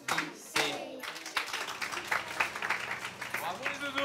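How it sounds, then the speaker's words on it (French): Group of children clapping in a school canteen setting, a short burst of scattered claps mixed with high voices and chatter throughout. "Applaudissez."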